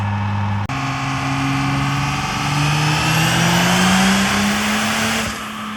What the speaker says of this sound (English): So Bridger, it sounds like maybe something like a valve bridge fell off or something